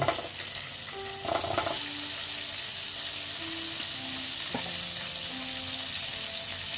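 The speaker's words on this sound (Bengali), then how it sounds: "পনির সহ আলুটাকে আবার ভেজে নিচ্ছি" Paneer cubes and potatoes frying together in a pan, a steady close sizzle throughout with a few brief clinks and faint tonal hums in the background, no voices.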